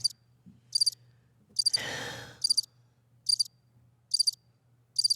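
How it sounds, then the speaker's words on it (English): Crickets chirp in short, evenly spaced bursts, with a faint low hum underneath and one brief breathy rush in the middle. "I hear those crickets."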